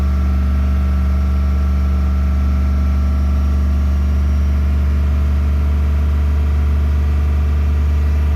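A car engine, newly replaced, runs steadily at idle with the engine light blinking for a possible misfire, a low constant hum with a faint mechanical whine above it, close by and unbroken.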